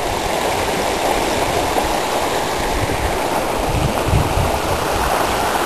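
Ferson Creek in Kane County, Illinois flows steadily, a constant broad rushing wash of moving water heard close and alone, with no voices.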